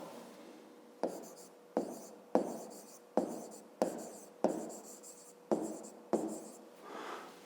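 Pen or chalk writes out a math solution in a quiet room, a series of about eight crisp strokes spaced roughly a second apart, each with a short scratchy tail, close and alone.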